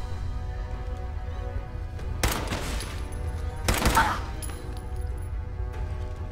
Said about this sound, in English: I can only pop out and fire off one shot at a time before she shoots me.